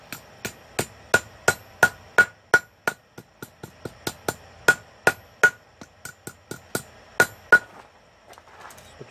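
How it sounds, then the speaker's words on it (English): A soft face hammer strikes a hairpin being forged over the horn of an anvil, giving about twenty close, crisp ringing blows in a steady rhythm with brief pauses, alone with no talk. "Soft face hammer over the horn of your anvil."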